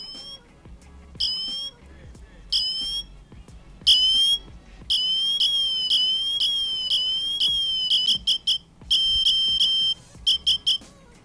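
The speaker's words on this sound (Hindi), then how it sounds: "सो यहाँ पे उन्होंने एक स्पेशल सायरन अलार्म भी इसके अंदर प्रोवाइड किया है जो यहाँ पे जाता है 86 dB तक" An Apple Watch Ultra sounds its 86 dB emergency siren, a loud, piercing high-pitched two-tone whistle in repeated bursts of varying length and pattern, with a faint voice and handling noise beneath.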